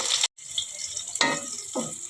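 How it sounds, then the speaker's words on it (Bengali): Chopped onions fry in oil in a pan with a close, soft crackle. Two short bursts of stirring and sizzling rise over it, with no one speaking. "এই যে পেঁয়াজগুলো দেখুন এইভাবে ভাজা ভাজা করে নেবেন"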